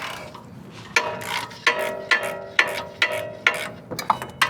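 Socket ratchet working the brake caliper bolts on a Tesla Cybertruck during a hub and half-shaft repair, giving a series of sharp metallic clicking bursts in an even rhythm, close and alone.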